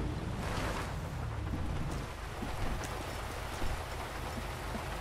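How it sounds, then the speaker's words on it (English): Steady rain in the GTA V FiveM game world, a dense continuous hiss of falling water at a constant level with a faint low rumble beneath, and no voices. "it's raining"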